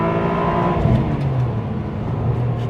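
A 2000 Ferrari 550 Maranello engine pulls hard from the passenger seat, a loud, close, rising tonal growl through a single acceleration with road roar underneath.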